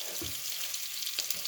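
Onion frying in a pan over a medium flame, a soft steady sizzle with a few brief stirring knocks near the start and middle, quiet and close.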